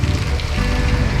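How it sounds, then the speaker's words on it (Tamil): Heavy rain on a forest road during a motorbike ride between Valparai and Athirapally, a loud, dense, steady hiss close to the microphone with low rumble underneath and no talking. "சரியான மழை."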